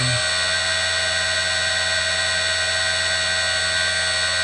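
A CNC spindle runs at 5000 RPM, making a steady, unbroken high-pitched whine with an even hum underneath that holds constant throughout.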